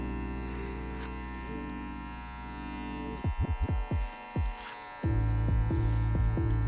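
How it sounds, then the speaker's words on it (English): Electric hair clippers buzz steadily as they cut hair over a comb, a close, humming drone that stops briefly, sputters in short bursts and resumes louder. "and then I'll go in with my clipper"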